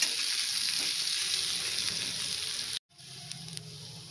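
Oil sizzles steadily as cauliflower samosas fry in a pan, a close hissing crackle that cuts out briefly, then resumes a little more quietly.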